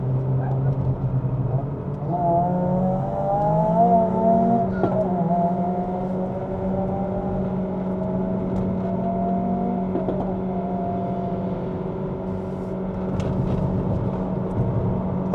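A Proton eMas 7 PHEV Premium at full throttle climbing the Genting road in Malaysia, heard from inside the cabin as a steady engine drone that rises in pitch and holds under load, with occasional voices.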